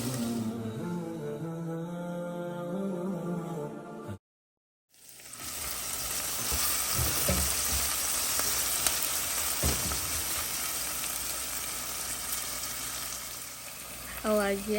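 Onions and spices fry in a pot, a steady close sizzle that starts after a brief silence and continues evenly to the end.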